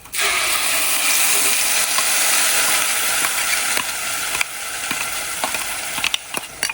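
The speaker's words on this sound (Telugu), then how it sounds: "ఇది బాగా మిక్స్ చేసేసుకోండి." Loud, steady sizzling of spice masala frying, with scraping and clinking of a utensil stirring it in a pan, continuous throughout with no talking.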